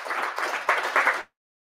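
Brief applause at a tech conference on Angular as a speaker is welcomed on stage, moderately loud clapping from a modest crowd that stops abruptly after about a second.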